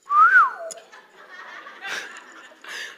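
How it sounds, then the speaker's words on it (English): Someone in a live audience lets out one short rising-and-falling whistle, followed by scattered chuckles and laughter from the crowd. "Somebody whistled."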